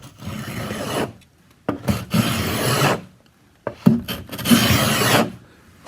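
A power tool fitted with an aggressive blade rounds over the edge of a wooden subfloor in a series of loud, coarse rasping strokes with brief pauses between them, close up and without talk.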